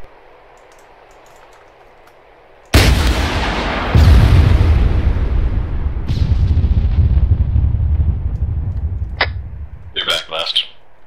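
Rocket launcher firing during an ARMA 3 squad training session, a sudden loud blast followed by a second roaring burst and a long rumbling tail, with players talking over it and sharp crackles near the end.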